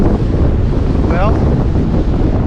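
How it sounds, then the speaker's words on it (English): Heavy wind buffeting a microphone, a constant loud low rumble roaring through the whole clip. "it's too windy, so you're not going to hear anything we're saying"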